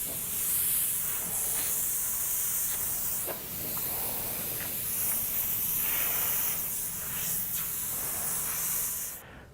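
Steady airbrush hiss as paint is sprayed in loose strokes and fades for flames on a flaming skull design, a continuous close airy spray with slight swells and dips and no talking, cutting off abruptly at the end.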